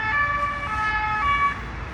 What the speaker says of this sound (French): c'est aux flics que je dis ça, avec leur sirène à la con.